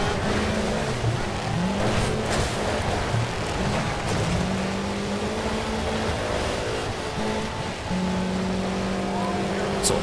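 In the Sega Rally video game, a rally car engine drones steadily and loudly throughout, its pitch rising and falling with gear changes, while someone talks over it.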